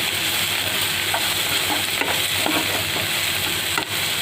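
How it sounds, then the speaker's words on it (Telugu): Vegetable filling for spring rolls with coriander leaves being stirred in a pan, steady close sizzling with repeated scraping strokes of a spatula throughout, no talk. "కొద్దిగా కొత్తిమీర వేసుకుని ఒకసారి కలుపుకుందాం మొత్తం"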